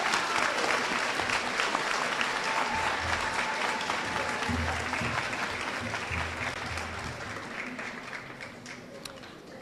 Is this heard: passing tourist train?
no